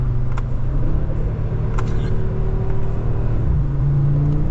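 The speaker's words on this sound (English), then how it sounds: "Let me use the paddle shifters real quick." Audi RS3 hatchback engine revving as paddle shifters change gears, a loud continuous rumbling drone with shifting tones, heard from inside the car with no talk.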